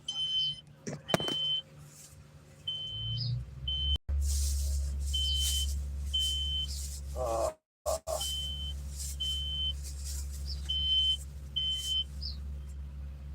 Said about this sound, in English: And I do apologize for the beep. It's driving me fucking nuts.